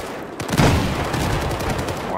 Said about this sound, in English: I really wish you could fire these DMRs faster.